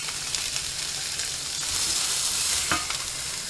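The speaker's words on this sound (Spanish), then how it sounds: "Luego ahora ponemos la cebolla y la marcamos." Onion browning in oil in a pan alongside potatoes over high heat, a steady close sizzle with occasional stirring scrapes and no talk.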